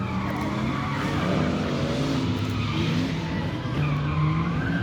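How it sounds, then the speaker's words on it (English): Pickup truck drifting at a drift event, tires skidding in a long loud squeal over a revving engine, close and continuous with no voices. "Here comes a pickup truck."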